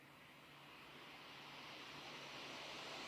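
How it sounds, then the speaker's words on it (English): Asus ROG Zephyrus G14 gaming laptop fans on a low hysteresis setting: a steady, airy whooshing hum that gradually swells louder over a few seconds, like fans spinning up. "here's how it sounds with low hysteresis"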